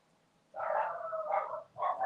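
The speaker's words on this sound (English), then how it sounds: "can you guys hear my mom's dogs?" Several dogs bark at someone arriving at the door, a burst of close, loud, overlapping yips and barks after a quiet start, with a brief pause before more barking.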